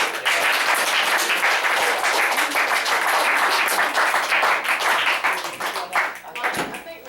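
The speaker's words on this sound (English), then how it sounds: "You deserve a round of applause." A small group claps in a round of applause, dense uneven clapping that fades toward the end, with voices talking over it.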